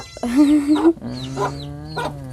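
Chickens clucking close by at a rural home, a drawn-out call followed by two shorter, rising calls over about two seconds, fairly loud against a low steady background hum.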